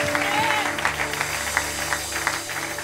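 A church congregation claps and cheers in acclamation during a sermon, a steady wash of crowd applause filling the room with a few sharper claps rising above it.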